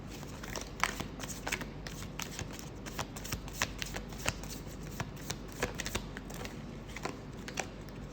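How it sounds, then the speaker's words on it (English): Tarot cards are shuffled close by in a steady, continuous riffle of crisp papery flicks and soft slaps, heard on their own without talk. "Let's pull an advice card for you"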